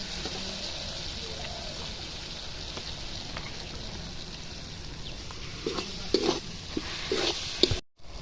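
Garlic hits browned onions in a pan while a Bengali home dish cooks, bringing a soft continuous sizzle. Toward the end, a few louder stirring scrapes and clicks cut in before a brief dropout.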